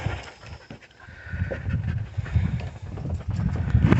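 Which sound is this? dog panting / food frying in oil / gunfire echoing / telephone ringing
dog panting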